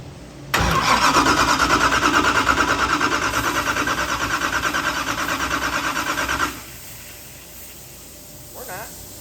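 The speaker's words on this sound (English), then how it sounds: "try starting this thing up" A methanol-fuelled wagon car engine on a cold start fires abruptly and roars loudly and close with a pulsing, rough beat for about six seconds, then cuts out, leaving a faint hiss and a brief voice.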